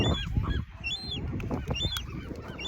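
Seabirds on Santa Monica beach squawk and honk repeatedly during a bird attack, harsh cries close overhead over steady beach and wind noise.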